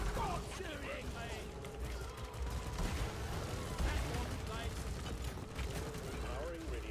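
Sustained video game gunfire with dense bursts and mechanical clatter under a constant rumbling bed of game sound, steady and moderately loud throughout.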